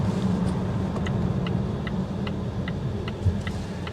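Inside a 2023 Volvo V90 Cross Country wagon under braking, a steady low road and cabin rumble carries a regular ticking, likely the turn signal, with a brief thump near the end.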